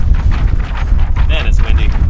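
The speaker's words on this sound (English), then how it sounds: "Man, it's windy." Gusty wind buffets the microphone at a dinosaur dig quarry in Utah, a steady low rumble throughout with people talking faintly over it.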